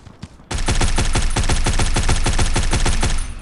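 Rapid automatic gunfire rattles out in the shooter game Guns of Boom, a fast, loud, evenly spaced burst of shots that starts abruptly after a brief quiet moment and runs for about three seconds.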